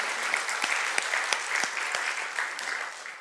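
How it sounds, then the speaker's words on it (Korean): Congregation applauding together in a church service to celebrate a wedding, a steady dense patter of many hands clapping at close-to-mid distance for a few seconds, fading slightly at the end. "우리 감사하고 축하하는 박수를 하겠습니다"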